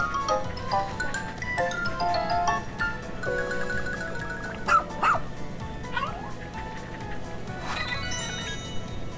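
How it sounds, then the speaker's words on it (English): Game dog in Pikmin 4, a young rescue pup of a space-dog breed, giving yips, small barks and whimpers over a soft musical game background. "This young, loyal rescue pup is one of an elite breed of space dogs that's long served the Shepherd family."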